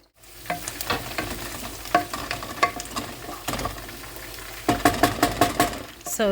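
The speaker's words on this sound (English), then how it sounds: "So here I have sauteed the red onions and the garlic together" Red onions and garlic sauté in a pot, a close sizzle punctuated by repeated clanking stirs, with a denser burst of scraping near the end.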